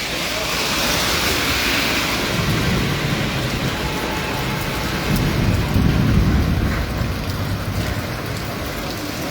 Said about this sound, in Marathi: कसा ढग ढोल वाजवतोय पहा आणि वीज कशी थुईथुई नाचते